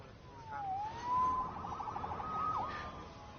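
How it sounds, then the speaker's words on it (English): A police siren in a Spider-Man video game wails steadily, its pitch rising, dipping and warbling, moderately loud over a rumbling city background. "Saved by the siren."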